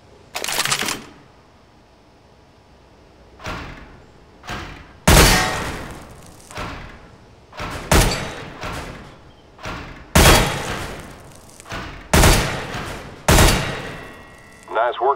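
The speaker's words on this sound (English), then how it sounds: "pick up the weapon and shoot 5 bad guys for me." Counter-Strike: Global Offensive weapon-course gunfire at wooden terrorist targets, with loud single shots and short bursts repeating about every two seconds, each trailing a brief echo, alongside scattered game sounds.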